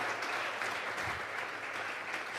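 A church congregation claps together as an offering to God, a dense, steady burst of applause filling the room without any voice over it.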